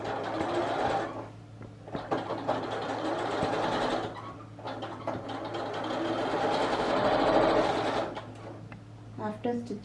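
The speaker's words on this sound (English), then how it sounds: "So I'll start stitching now." A sewing machine stitches piping cord, with fabric and cord fed under the foot. The fast, continuous motor whir and needle clatter run in long stretches with short breaks, and a voice is heard alongside.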